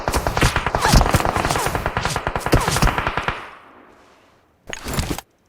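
Gunfire in a video game: a fast, loud automatic burst of closely spaced shots lasts about three seconds and fades out, then a shorter sharp burst follows after a brief pause.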